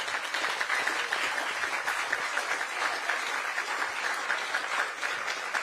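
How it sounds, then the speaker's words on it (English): Sustained clapping from a large crowd at an IRONMAN World Championship press conference in Kona, steady and dense throughout with no voices standing out. "let's give them a massive round of applause"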